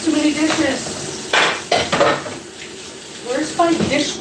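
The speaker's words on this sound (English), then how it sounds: "Dishes. She has too many dishes." Dishes and cutlery clatter in a home kitchen during washing up, sharp clinks and knocks in short irregular bursts at close range, with brief gaps between them.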